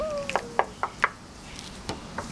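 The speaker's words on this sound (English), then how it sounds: "Sounds like someone knocking." A handful of sharp knocks, several quick raps close together then a couple more after a pause, fairly close.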